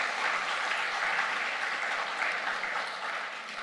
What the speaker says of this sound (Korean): 환영함의 의미로 박수하겠습니다.